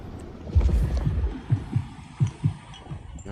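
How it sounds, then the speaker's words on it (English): Muffled low heartbeat thuds in the video game Vampire: The Masquerade Bloodlines 2, a heavy throbbing pulse followed by pairs of soft beats repeating at a steady rhythm, fairly close and alone. "Okay, that's the heartbeat."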